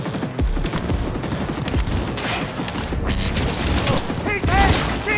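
Sustained gunfire in Cyberpunk 2077 on PS5, dense overlapping shots and a continuous fusillade with mechanical clatter and occasional booms, loud and close, with shouted voices mixed in.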